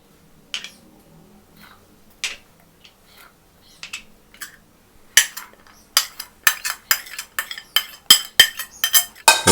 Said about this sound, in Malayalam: ഇനി നമുക്ക് വെജിറ്റബിൾസ് എല്ലാം ഈ ഒരു കുക്കറിലേക്ക് നമുക്കിടാം